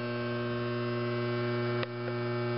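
A gas furnace blower runs as a steady, loud mechanical hum with strong low tones, continuing on its own after the booster motor has shut off, with a brief click near the end.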